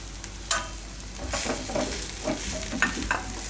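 Potato masala for aloo uttapam is stirred in a pan, with a low sizzle under scraping spoon strokes and a few taps against the pan, close and moderate, with no voices.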